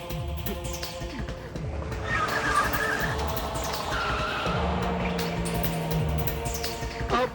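A car skids under a Hindi horror audio drama, with a sustained tire screech over a tense music bed. The sound is loud and continuous and holds for several seconds.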